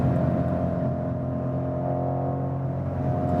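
2019 BMW M550i G30 sedan with M Performance tuning, its engine producing a deep, steady low rumble and drone while driving, with no voices over it.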